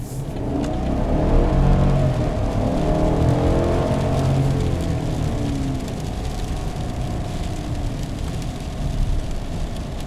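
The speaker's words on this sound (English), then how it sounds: "now we can try acceleration basically from a dig" A 2020 Chevrolet Silverado 1500 RST pulls away hard from a standstill, its engine rising in pitch through the revs with a steady loud drone heard from inside the cab, easing as the truck settles into speed.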